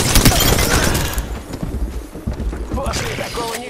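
Gunfire in the video game Apex Legends, loud rapid bursts of shots up front, then scattered impacts and effects, with a voice shouting in game briefly.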